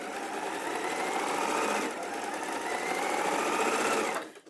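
A sewing machine bastes small fabric pieces in place close to the edge, running in one steady, fast whirring stretch for about four seconds before stopping abruptly.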